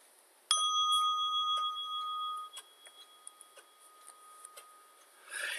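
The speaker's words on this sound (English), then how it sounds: "At the sound of the bell, we'll begin this meditation." A meditation bell rings once with a sudden bright strike, then sustains a long shimmering tone that slowly fades, followed by scattered light taps and faint rustles in a quiet room.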